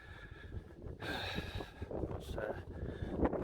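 Gusty wind buffets the microphone in rough, low rumbling bursts while a person speaks nearby.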